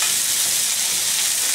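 Garlic and herbes de Provence sautéing in a pan give off a continuous close hiss and sizzle, bright and steady across the short stretch with no voices.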